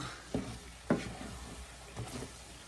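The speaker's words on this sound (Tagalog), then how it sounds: "I need to stir it because I don't want this to burn" Thick shepherd's pie filling stirred in a pot, a few soft scraping strokes spaced about half a second apart, faint and close with no voices.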